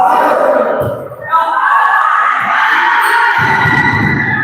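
A loud indoor crowd roars and cheers throughout at a volleyball tournament final, with sustained vocal noise and swells of shouting, heard close and dense around a voice talking over it.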